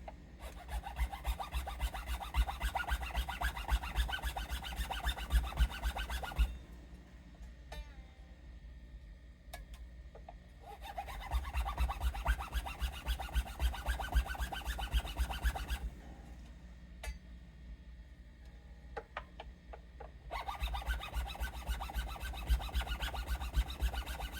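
Sandpaper rubs steadily against the wooden body of an ESP LTD EXP-200 guitar in long rasping bursts, close and fairly loud, broken by two short pauses with only faint background noise.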